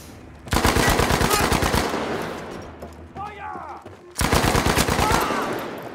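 Rapid automatic weapon fire in Battlefield V comes in two loud, close bursts of evenly spaced shots, separated by a quieter gap with brief distant effects.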